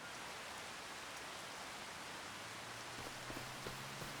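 Steady rain in the farming game Farming Simulator 25, a constant soft hiss of falling drops spread evenly across the whole stretch, with a faint low hum joining near the end.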